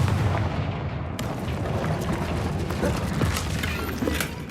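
Confringo, the fiery explosion spell in Hogwarts Legacy, goes off in a dense, booming burst of blasts and crackling debris. The rumble is loud and continuous and fills the whole stretch.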